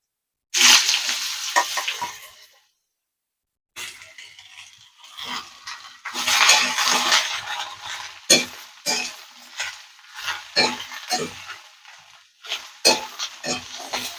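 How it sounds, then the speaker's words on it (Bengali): Snake gourd being stirred in a pan with hot oil and panch phoron spices, a close scraping and sizzling that comes in short bursts after a brief silent pause. "চিচিঙ্গাটাও খানিকক্ষণ আমরা নেড়ে চেড়ে নেব।"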